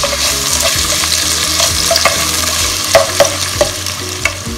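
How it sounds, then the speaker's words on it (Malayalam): Finely chopped onion sautéing in hot oil for a chicken biryani, a steady loud sizzle with repeated stirring scrapes and clinks throughout, no voices. "അതിലേക്ക് നമ്മൾ നൈസായി അരിഞ്ഞ് വെച്ചേക്കണം 1 സവാള. ഇത് ഒന്ന് നന്നായിട്ട് വഴറ്റാം."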